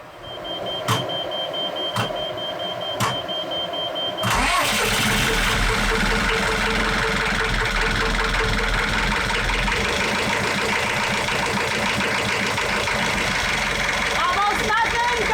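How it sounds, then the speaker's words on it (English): Inboard engine of a C&C Landfall 43 sailboat cranks and catches after a few seconds of quiet, then settles into a loud, steady idle that runs on to the end, with brief voices now and then. "I'll start the engine"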